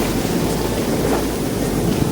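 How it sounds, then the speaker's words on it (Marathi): Sea at Malvan beach, a dense broadband roar of surf and wind buffeting the microphone, loud and continuous throughout with no voices. "तुम्हाला पण समुद्रामध्ये नेतो."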